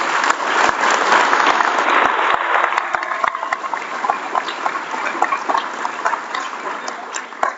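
An audience applauds guests at a public forum with elected officials, loud dense clapping that gradually thins into scattered claps, heard alone without talk.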